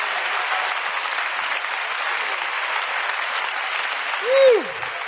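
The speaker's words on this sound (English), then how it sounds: "let's clap our hands and give praise to the Lord." A church congregation claps its hands in praise during a sermon, a steady wash of many hands held at an even level for several seconds, topped near the end by a single rising whoop from one voice.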